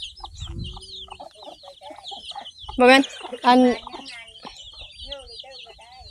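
Hens cluck close by in a farmyard where no rooster remains, with two loud, squawking bursts in the middle, scattered softer clucks around them, and a person talking intermittently.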